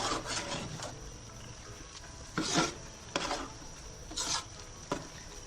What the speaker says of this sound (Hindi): मैं इसको लगातार चम्मच चलाते हुए भून रही हूँ ताकि हमारा हलवा नीचे ना लगे